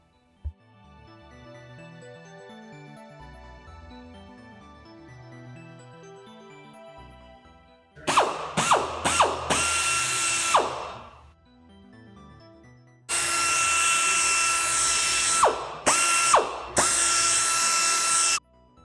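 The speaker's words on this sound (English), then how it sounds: "we're going to use this little rotary here and spray it all over the place" A small rotary polisher whirs loudly in two separate bursts, spinning up and down with high, bright tones, and the runs are divided by a stretch of quieter background noise.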